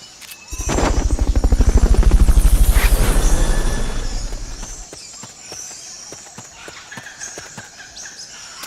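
A Fulton recovery helicopter in Metal Gear Solid: Peace Walker, its rotor thumping rapidly, growing loud as it passes close, then fading away, leaving faint ticks and chirps in the background.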